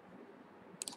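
A mouse click on a download button: two quick, faint clicks close together near the end of a quiet second.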